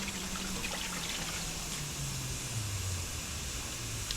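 Water runs from an outdoor tap as hands are washed, a soft steady trickle and splash, faint and continuous, with a low hum underneath and no talking.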